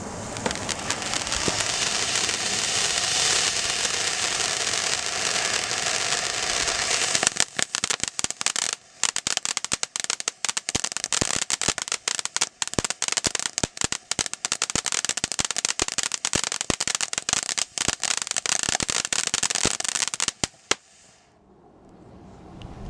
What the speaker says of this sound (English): Next up we got Silver Rain by Black Cat Fireworks.